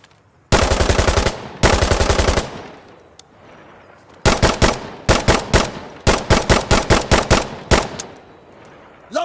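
Automatic machine gun fire from the game Insurgency Sandstorm: two long, loud sustained bursts, a short pause, then a string of rapid short bursts close up, with no talk.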